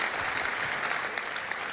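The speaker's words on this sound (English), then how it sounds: "Round of applause." A short, steady wash of audience applause at the RootsTech 2023 genealogy event, even and continuous throughout.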